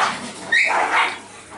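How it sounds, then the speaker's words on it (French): Dogs fighting, heard as a tight run of whining yelps and snarls from nearby, loud and agitated, in a brief burst with no one talking. "Là j'ai des bagarres de chiens."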